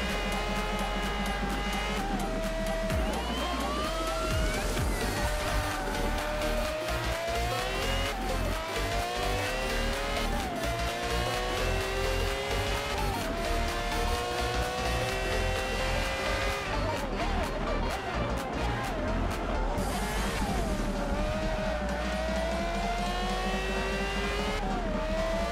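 A Porsche engine races in Forza Motorsport 7, a steady loud drone with rising and falling revs over the whole stretch, with music or other game sound underneath.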